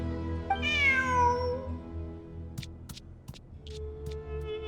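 A cat in a video game meows once, a rising then falling cry, over steady game music with a few soft clicks and chimes afterward.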